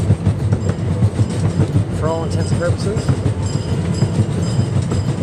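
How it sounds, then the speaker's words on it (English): A Santa Fe Railroad train rolls past at a railroad park with steady rumbling and clickety-clack close by, while someone talks over it. "there it is, the Santa Fe Railroad"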